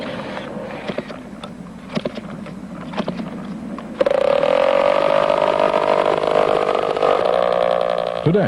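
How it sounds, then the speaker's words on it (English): A steady engine of a radio-controlled robotic aircraft roars up suddenly after some background chatter and rumble, holding loud and droning with a slight rising pitch, in Arlington, Texas. "an aircraft with a strange mission is revving up"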